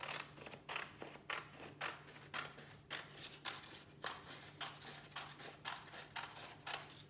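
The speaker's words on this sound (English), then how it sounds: "So holding it the long way, we're going to cut a strip." Scissors snip through a strip of paper for a paper lantern, a quick run of crisp, evenly spaced cuts heard up close and alone in a quiet room.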